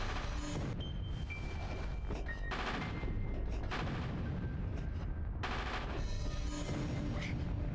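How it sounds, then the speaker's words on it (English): Robot guns in the video game Castlevania 64 fire repeatedly in heavy, booming blasts, dense and loud throughout, with bursts of crackling impacts and no talking. "These are robot guns that are trained to shoot me."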